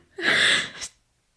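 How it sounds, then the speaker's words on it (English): A single sharp sneeze, close and loud, with a quick airy intake bursting into a hissy release that cuts off abruptly. "I hate when people interrupt my sneeze."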